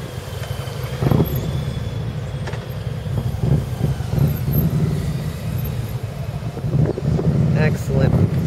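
A Honda Goldwing motorcycle weaves through an offset cone course, its engine rumbling low and rising and falling with throttle changes at moderate distance, while someone speaks over it.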